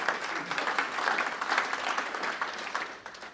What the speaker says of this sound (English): A little round of applause, please, for them would be great.